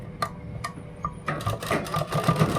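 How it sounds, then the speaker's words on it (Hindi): A sewing machine stitches the shoulder seam of a kurta in short, close bursts of rapid mechanical clatter separated by brief pauses, with no talk. "ये कंधी को हम सिलाई कर देंगे"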